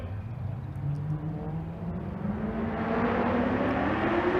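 A GTR car launches in a quarter-mile drag race at Bandimere, its engine tone rising steadily and swelling in loudness as it pulls away, heard from a distance.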